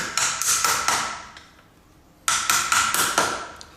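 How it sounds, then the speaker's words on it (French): A hammer taps a small wooden wedge against the magnets of a superconducting train rail: a run of sharp, evenly spaced knocks, a short pause, then a second run of crisp taps, close and clear. "vous prenez une petite cale en bois, il vaut mieux prendre quelque chose de non magnétique évidemment, et puis un marteau, vous vous mettez en bout ici, et vous tapez."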